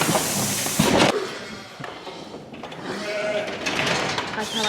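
A Texel cross sheep bleats loudly and close by, with sustained calls standing out against farmyard background noise.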